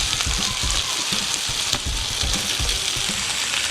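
Onions hit hot oil in a pan of frying chicken for chicken do pyaza, giving a dense, steady sizzle with soft stirring thumps underneath, close and continuous.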